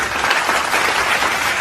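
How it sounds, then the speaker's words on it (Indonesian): A short burst of dense, lively applause from a church congregation at a Sunday online worship service in Jakarta, many hands clapping steadily and close, with no speech over it. "Oh, beri tepuk tangan yang meriah."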